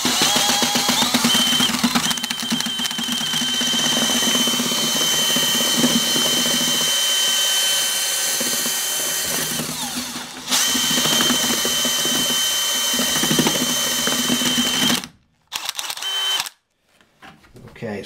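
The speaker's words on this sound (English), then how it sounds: "With the Ardex, you just mix it one time, make sure there's uniform consistency," A power drill fitted with a paddle churns Ardex thinset in a bucket, a loud sustained motor whine that dips and shifts as the load changes, then stops abruptly near the end with brief restarts.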